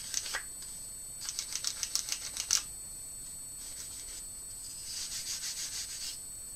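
Waxed wooden sliding-door cabinet handles being rubbed smooth, producing short, close, dry scrubbing strokes in a quick series, then a softer run of rounded rubbing passes after a pause.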